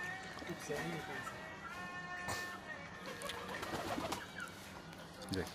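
Rajshahi local Giribaz pigeons coo softly near the recorder, low throaty calls repeating through a busy loft with other birds chirping and some background noise.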